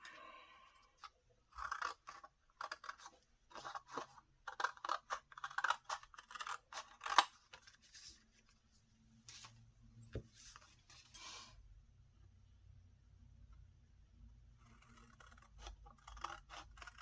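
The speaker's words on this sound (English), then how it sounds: "And now we're just going to cut it out." Scissors cut a small paper heart shape for a handmade journal: a close, quiet run of crisp snips and crunchy cuts in an irregular rhythm, followed by softer paper handling.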